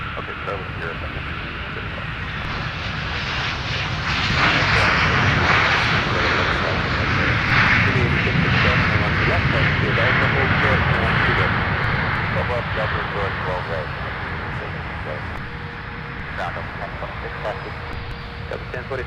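A Delta airliner taxis out at Minneapolis–Saint Paul airport, its engines a moderate whine and rumble that swells midway, under intermittent radio chatter from air traffic control.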